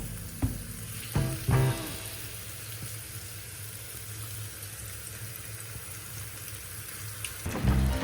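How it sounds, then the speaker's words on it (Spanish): Chicken with yogurt sizzles steadily in a hot frying pan, a constant crackling hiss with a few louder clanks and stirring bumps near the start and end, and no talk. "Una vez que tenemos esto que ya está chisporroteando, vamos a agregar nuestro pollo tal y como está, junto con el yogur"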